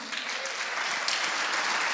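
A church congregation at Paz Church Barueri applauds during a sermon, a thick continuous wash of clapping from a large crowd at moderate level with no voices over it.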